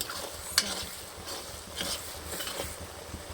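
Ginger garlic paste fries for chicken pickle while a utensil stirs it in the pan, a soft sizzle broken by scraping strokes and one sharp metallic tap, close and fairly quiet.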